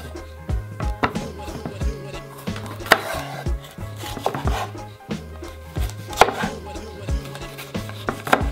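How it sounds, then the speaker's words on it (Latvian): A knife finely chopping bell pepper on a board in quick, regular close-up thuds that keep a steady rhythm throughout, with a few sharper knocks and no talking. "sadragāsim papriku molekulās"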